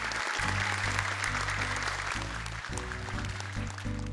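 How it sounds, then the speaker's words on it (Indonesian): A studio audience at a children's Quran memorization competition applauds two young contestants, continuous even clapping under a loud steady musical backing. "Boleh tepuk tangan untuk keduanya."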